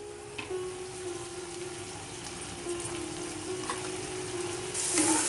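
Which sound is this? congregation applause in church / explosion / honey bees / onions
onions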